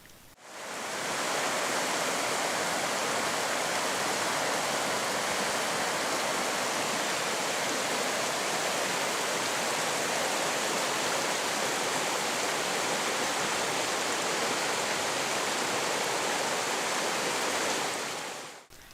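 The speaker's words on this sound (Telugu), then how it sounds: "పారే సెలయేర్లు నీటి ప్రవాహాలు చాలా మనోహరంగా ఉన్నాయి" Mountain streams flowing near a cave shrine in green forest, heard as a steady, loud broadband rush of running water that continues unbroken from start to finish with no voices.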